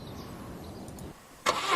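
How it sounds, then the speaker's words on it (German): A car engine starting in the police management game This Is the Police: a low rumble drops away, then a sharp crank catches and settles into a close, loud running engine. "Wie das Auto so schön sofort anspringt, ne?"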